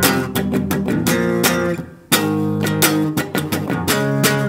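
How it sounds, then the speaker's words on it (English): An electric guitar plays a chord riff, with sharp, scratchy muted strums cutting between the ringing power chords in a steady, driving rhythm and a brief pause midway. "you'd add in muted strumming in between those chord transitions"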